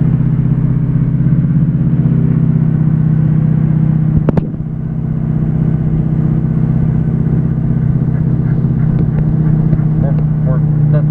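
A 6.0 PowerStroke diesel pickup in two-wheel drive strains to tow a stalled, overloaded 35,000 lb dump truck uphill, a loud, steady low engine drone with a sharp clunk midway, while someone talks over it.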